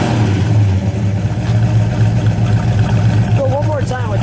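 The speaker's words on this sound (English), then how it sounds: "You just listen to that 440 rumble." A 1970 Dodge Charger R/T with a 440 V8 rumbles loud and close, its deep steady exhaust note swelling slightly as it revs, with a brief voice near the end.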